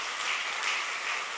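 Audience applause fills a church hall during a New Year's Eve service, a steady, dense wash of clapping with no voices over it.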